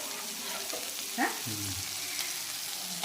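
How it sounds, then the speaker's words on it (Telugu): Okra frying in hot oil in a pan, a steady close sizzle with a few brief stirring scrapes and clinks partway through. "ఆయిల్ పెట్టుకున్నాం ఒకసారి పెట్టి బెండకాయ ఫ్రై చేస్తున్నాం"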